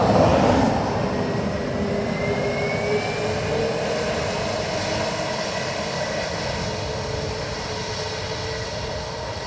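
A British Airways jet from Heathrow arriving at Dublin Airport, its engines a loud, steady roar that rises at the start and then holds as a broad, continuous rumble.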